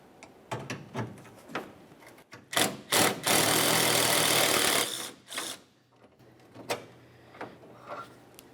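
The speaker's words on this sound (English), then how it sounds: "We'll continue with our 8mm to remove the mounting bolt." An 8mm socket on a ratchet or power driver loosens a grille mounting bolt on a 1994-2002 Dodge Ram 2500, with scattered clicks, a couple of short bursts and a sustained two-second whir, close and fairly loud.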